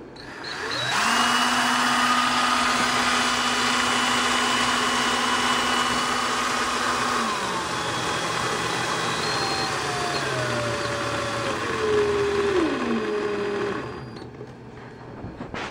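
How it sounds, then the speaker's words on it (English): An electric drill spinning a motor gives a steady whine that spins up, holds a constant pitch, then winds down gradually as the speed drops, continuous and close. "this is a drill, so it's not all that fast"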